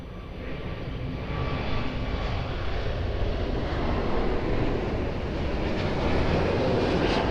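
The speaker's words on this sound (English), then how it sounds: "Airbus 321 departing" Airbus A321 departing Lisbon Airport, its jet engines producing a loud, steady broadband roar that swells slightly and holds throughout.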